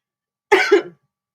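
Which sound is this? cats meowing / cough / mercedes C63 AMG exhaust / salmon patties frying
cough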